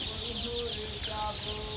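Chickens cluck and chatter together in a steady, busy flock noise on a poultry farm, with scattered calls rising above the constant background din.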